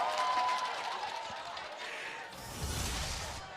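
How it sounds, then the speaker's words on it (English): A large esports arena crowd at a mobile game grand final roars and cheers in a dense, sustained wash of noise, swelling near the end. "Crowd goes wild."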